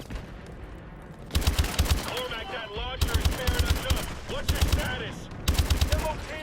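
Bursts of automatic gunfire in Call of Duty: Advanced Warfare, several loud rattling volleys separated by short pauses, with a voice and whining game effects layered between the shots.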